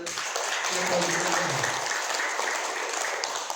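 Steady applause from a seminar audience at a health talk, dense and continuous for a few seconds with a faint voice underneath.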